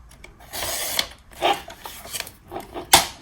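Short rasping strokes of a passport wallet insert being trimmed, several close, uneven scraping bursts with a sharper final cut.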